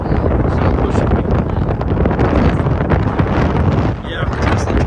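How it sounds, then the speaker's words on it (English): Loud gusting Hurricane Milton wind buffets the microphone, a constant heavy roar that briefly dips before surging back. "it's still pretty windy"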